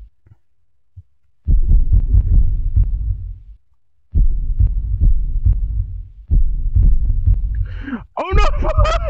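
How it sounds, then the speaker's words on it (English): Heavy, low thudding heartbeat effect from the Max Payne mobile game, pulsing in long throbbing bursts separated by brief silences, with a sharp rising tonal game sound near the end. "I hear the heartbeat."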